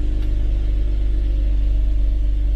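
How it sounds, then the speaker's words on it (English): A 2004 Infiniti FX35 engine idles with a steady, close low throb and faint rhythmic pulsing that holds unchanged throughout. "The car is running."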